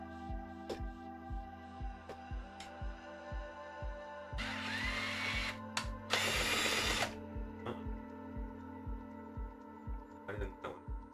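Power drill running while a gift is assembled, two short bursts of whirring separated by a pause, loud and close, over a steady rhythmic thumping background.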